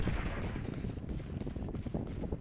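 Artillery fire in the video game Valorant rumbles as a dense run of low, muffled blasts and booms, moderately quiet and continuous with no talk over it.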